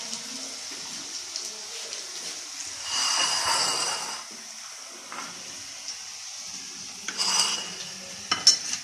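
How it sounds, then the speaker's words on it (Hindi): Onion and garlic frying in a pan for an eggplant and radish curry, a soft steady sizzle with stirring scrapes swelling louder in a few bursts, no one speaking. "अब ये प्याज और लहसुन फ्राई हो गया है,"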